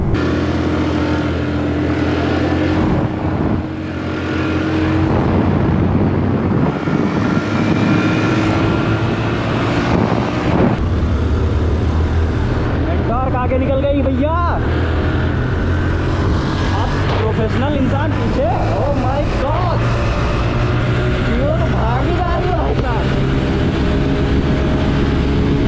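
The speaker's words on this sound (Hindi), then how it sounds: "ओ भाई साहब, सारे स्कूटर बराबर चल रहे हैं सिर्फ जूटर को छोड़" Four scooters race: a Hero Maestro Edge, a Honda Activa, a TVS Jupiter and a Honda Dio. Their engines make a continuous, loud, rushing drone with wind noise, and people talk excitedly over it throughout.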